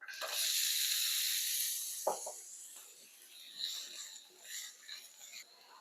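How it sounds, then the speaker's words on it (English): Chopped onions hit hot shimmering olive oil in a skillet, giving a bright burst of hissing sizzle that slowly fades, followed by softer crackles and a brief clatter. "Now we're ready to add 1 tablespoon of chopped onions."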